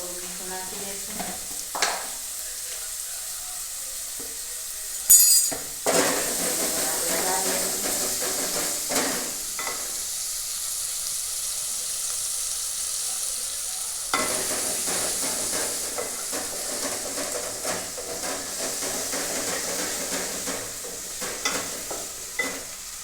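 Onion fries in a pan with a steady hiss and sizzle while a spoon scrapes and stirs it in intermittent bursts, with a few louder knocks against the pan and a voice talking at times.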